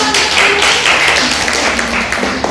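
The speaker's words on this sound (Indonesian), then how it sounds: "Tepuk tangan." Students applaud in a classroom during a micro-teaching lesson on Islamic cultural history, giving a loud, close, continuous burst of clapping that lasts a couple of seconds.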